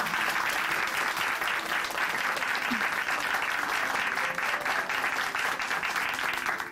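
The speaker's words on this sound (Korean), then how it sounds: "박수 보내드릴게요" Sustained, dense applause from a church congregation at Chuncheon Hanmaum Church fills the whole stretch at a steady, even level, with no voices over it.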